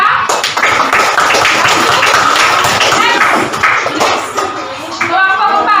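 A classroom of students applauding group 3: a dense, steady patter of many hands clapping together, loud and close, with voices mixed in that fade toward the end.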